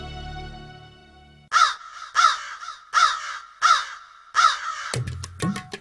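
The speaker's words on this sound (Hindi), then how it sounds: "14 कौवे चंदू की चाची के छत के मुंडेर पर" Crows on the parapet of a rooftop, five loud, harsh caws spaced about evenly, close by, after a quiet tonal lead-in and ending in a jumble of sharper sounds.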